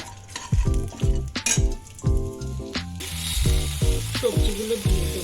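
Mutton tangri stew being stirred in a pan, a spoon scraping and clacking against the metal in steady repeated strokes over a soft background sizzle, close and fairly loud, with no talking.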